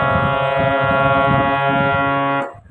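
A steady, buzzy sustained tone holds at one unwavering pitch on the note Sa, loud and reedy, then cuts off abruptly.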